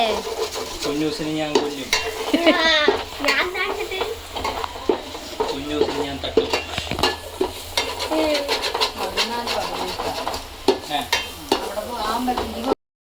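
Pork sizzles and fries in a pan for a roast, with steady crackling and repeated stirring strokes throughout, while voices and other kitchen sounds come and go.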